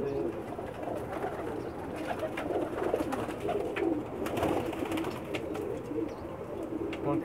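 Pigeons coo in a loft, soft repeated low coos overlapping close by with occasional wing and scuffling sounds, while someone talks quietly over them.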